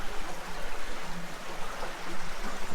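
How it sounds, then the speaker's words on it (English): A clear mountain stream flows steadily nearby with a continuous soft rushing and trickling wash, fairly quiet and unbroken, with no voices. "Quite a handy water source up here as well"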